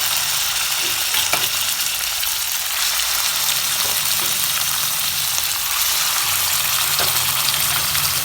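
Pieces of chicken breast sizzle and crackle in hot oil in a kadai, for Nepali-style chicken choila. The frying is loud, close and continuous, with a few brief pops and no talking.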